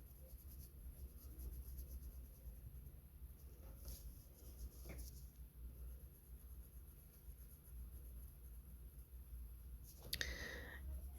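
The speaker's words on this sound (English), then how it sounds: "So you're just going to color those in." Marker or pencil coloring in a drawing on a handmade presents card, quiet scratchy strokes in irregular bursts close by, with a few louder taps and rustles near the end.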